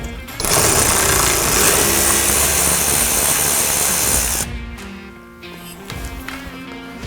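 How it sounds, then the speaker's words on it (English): A power tool with a 13mm socket backing a bolt out of a 2019-2022 Ford Ranger bumper on the passenger side, a loud continuous whirring rattle for about four seconds, then stopping, followed by quieter handling noises. "We're going to use a size 13mm socket to back this bolt out."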